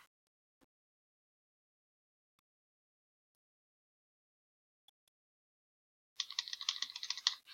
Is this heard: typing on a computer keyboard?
yes